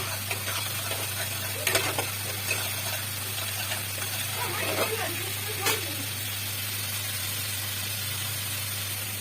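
Bhola fish with spices is stirred and fried in a pan, giving a steady soft sizzle with scraping spoon strokes and occasional clinks against the metal, set over a low constant hum.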